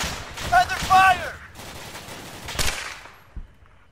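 Gunfire in the military video game ArmA 3 during a firefight in Zargabad, bursts of distant and closer shots mixed with game radio tones and battle noise, fading toward the end.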